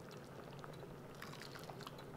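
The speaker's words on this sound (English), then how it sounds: "now we're just gonna temper this by adding some of the soup liquid in here to raise the temperature of the eggs" Hot soup liquid for a lemony chicken pot pie is ladled into eggs to temper them, making a steady close pouring and sloshing with light splashes and no talking.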